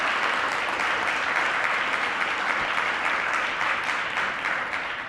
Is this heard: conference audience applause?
yes